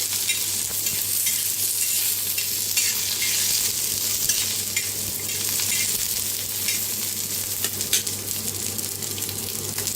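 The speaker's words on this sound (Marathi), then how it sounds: "अद्रक, लसूण, हिरव्या मिरच्या, 3 हिरव्या मिरच्या मोडून घेतल्या होत्या, त्याला मी भाजून घेऊया।" Ginger, garlic and green chillies roasting in a pan, a steady sizzle and frying crackle with stirring that runs loud and continuous throughout, with no talk.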